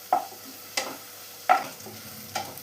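Onion, shallots and curry leaves sautéing in a pan, with a soft steady sizzle broken by four distinct stirring scrapes spaced about a second apart.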